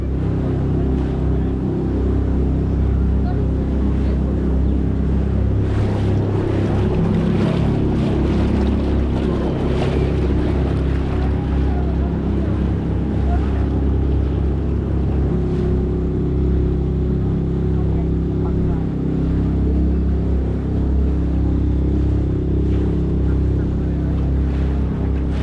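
A small boat on the lake at Cubbon Park in Bangalore drones along with a steady, low engine hum, and water and wind noise sit faintly underneath for the whole ride.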